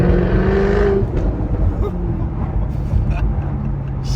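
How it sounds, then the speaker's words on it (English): A car accelerating hard with its active exhaust open, a loud sustained engine roar with rising tones near the start, then steady throaty drive noise, with some voices in the background. "going to put his foot down with the active exhaust on now"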